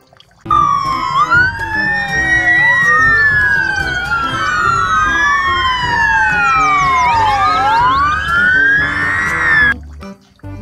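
An electronic toy fire truck siren wails loudly and continuously, overlapping rising and falling tones sweeping up and down for about ten seconds.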